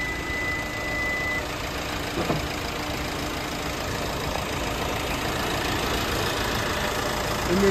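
A used 2017 Hyundai Creta 1.6 SX+ with about 54,000 km on it idles with its bonnet open, a steady, even engine drone and hum that stays unchanged from start to finish with no talking.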